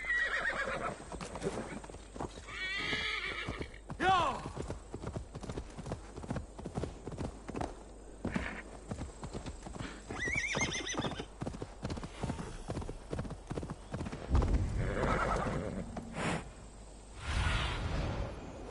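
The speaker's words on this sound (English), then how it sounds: "Come here, horse." A horse in Assassin's Creed Valhalla clip-clops along with steady hoofbeats and lets out several neighs and whinnies, with a few swooshes mixed in and a voice briefly heard.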